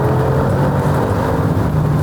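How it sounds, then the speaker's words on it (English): Mercedes G63 AMG V8 roaring through its side exhaust, heard from inside the cabin with the windows open, a loud, steady low growl with no break. "And the sound, the side exhaust when you have the windows open"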